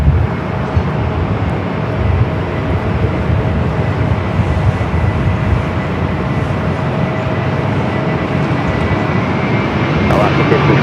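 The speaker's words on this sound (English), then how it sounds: "Air Premia, the Dreamliner. Coming in from Seoul, the 787-9 Dreamliner, the afternoon flight." An Air Premia Boeing 787-9 Dreamliner jet at LAX, arriving from Seoul, produces a loud, steady broadband roar that fills the scene from start to finish.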